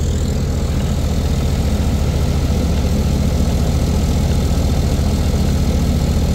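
A John Deere 5210 tractor's diesel engine runs loud and close, a steady, unbroken low rumble with even pulsing throughout and no voices.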